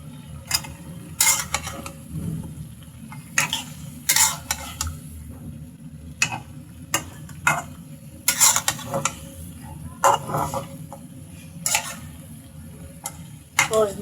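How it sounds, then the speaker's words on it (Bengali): Drumsticks and potatoes sautéed in a pan, heard as repeated clicking, scraping spatula strokes in an irregular rhythm over a low background hum, with no talking. "সজনে ডাঁটাগুলো দিয়ে আমি এখানে কষিয়ে নিচ্ছি।"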